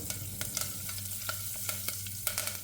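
Pepper, salt and curry leaves sauté in coconut oil in a cooker, a steady quiet sizzle broken by sharp regular clicks of a spoon stirring against the metal.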